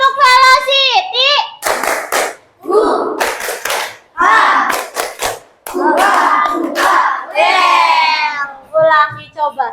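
A group clapping chant, "tepuk velocity," led by an energetic leader calling for more spirit, with bursts of rhythmic hand claps mixed among loud voices and shouting, close and lively.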